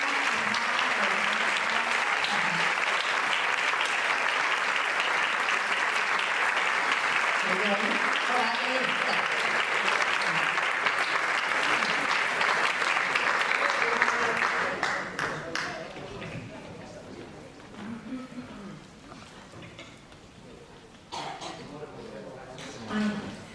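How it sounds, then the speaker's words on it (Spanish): Loud, dense applause from a charity gala audience in Albalat dels Sorells fills the first half, then thins into scattered claps as voices take over and talk continues. "Un fuerte aplauso para ellas."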